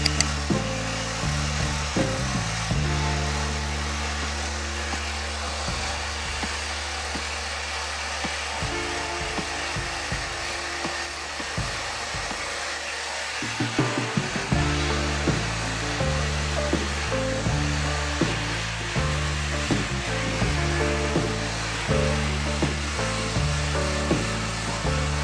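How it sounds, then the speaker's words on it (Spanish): A power saw cuts through a wooden pallet board, its steady whining drone running continuously with shifting pitch and rough grinding as the blade works through the wood, loud and alone. "me está costando la vida cortar la tabla"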